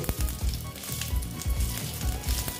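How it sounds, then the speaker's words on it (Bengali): Whole garam masala spices sizzle and fry in hot oil in a pan for a vegetarian chhana and potol dish, a steady crackling hiss with a few soft stirring knocks close by. "তারপরে দিচ্ছি গোটা গরম মশলা। দিয়ে এটা আমি একটু হতে দিচ্ছি।"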